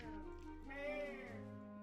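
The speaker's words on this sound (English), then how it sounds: "Yeah, listen to him. He's meowing." A cat meowing once in a single drawn-out, wavering cry, close and fairly loud, with a voice faintly underneath.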